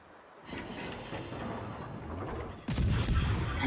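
Naval gun salvos from the Mutsuki destroyer in World of Warships, a low rumbling barrage that builds after a quiet start, then a louder, sharper burst of firing near the end.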